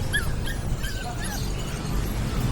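A small-breed Shih Tzu Pomeranian puppy whimpers and yips in a steady run of high, thin cries close by, over a continuous low background rumble.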